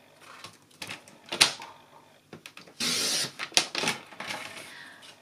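Blade of a paper trimmer slides and clicks through white cardstock, producing close scraping swishes, a sustained cutting rasp and sharp taps as the paper is handled and trimmed.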